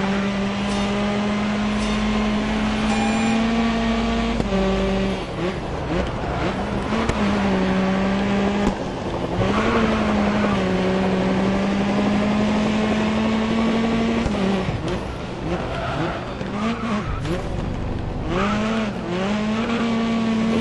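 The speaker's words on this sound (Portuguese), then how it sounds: "Vai, meu querido, vamos com nosso Ford Focus tunadinho" A tuned Ford Focus race car in Grid Autosport at Brands Hatch, its engine droning loud and steady with rising and falling pitch through gear changes and throttle lifts, alone without talk.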